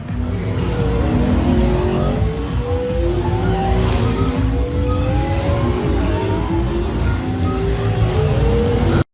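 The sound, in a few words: AI-generated video of futuristic hoverpods racing through a desert canyon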